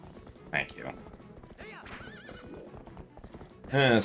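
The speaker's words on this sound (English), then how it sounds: "Silly little horse." Epona the horse in Twilight Princess HD gives several whinnies amid quick clip-clopping hooves, with a loud, shrill neigh at the end, while a voice talks under the game sound.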